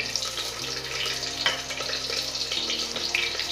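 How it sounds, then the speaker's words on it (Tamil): Green chillies dropped into hot oil in a pan while making spinach rasam, giving a steady, close crackling sizzle with a hissing wash that continues throughout, no talking. "பச்சை மிளகாய் போடுறேன்."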